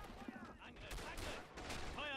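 Rapid gunfire crackles in a World War I video game set at Beaumont-Hamel, a dense burst of overlapping shots and distant fusillade, fairly faint, with a voice talking over it.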